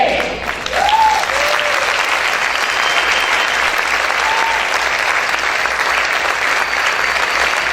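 A church congregation applauds loudly and continuously, creating a thick wall of clapping. A few brief raised voices ring out near the start.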